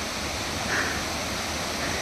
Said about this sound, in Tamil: இப்போ செம்மையாக தண்ணி வருது.